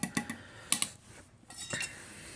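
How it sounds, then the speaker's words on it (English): A spoon stirs peach hot chocolate in a cup, giving a few light, close clinks against the sides in quick bursts, then a short pause and a softer scrape. "you have to stir it a little bit"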